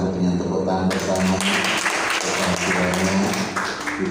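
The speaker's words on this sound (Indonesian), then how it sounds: "Kita sambut dengan tepuk tangan bersama." Church congregation at a Sunday service breaking into applause after a moment of sustained musical tones, a full, even clapping texture that continues over a soft instrumental backing.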